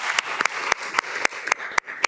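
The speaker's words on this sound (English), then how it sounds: "I want to give her a round of applause." Round of applause at a city council meeting, with sharp individual claps standing out over a steady wash of clapping, fairly close and loud throughout.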